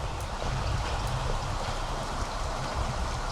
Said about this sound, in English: Ooh, it's raining outside.